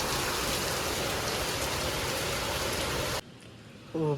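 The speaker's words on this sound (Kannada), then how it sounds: "ಈಗ ಶುರು ಆಗಿದೆ ಮಳೆ, ನಾರ್ಮಲ್ ಮಳೆ, ಆನೆಕಲ್ ಏನೂ ಇಲ್ಲ" Heavy, constant rain hisses close by for about three seconds on a stormy day with a power outage, then cuts off abruptly, leaving a faint quiet stretch and a brief burst of other noise at the end.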